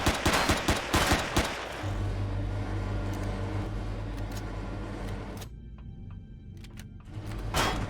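A burst of rapid gunfire opens a sci-fi space survival game sequence, followed by a steady mechanical hum and then a few more sharp shots near the end.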